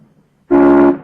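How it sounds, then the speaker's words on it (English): A steam locomotive whistle lets out a single loud, steady blast that starts abruptly and holds for about half a second before fading. "You blow that whistle again"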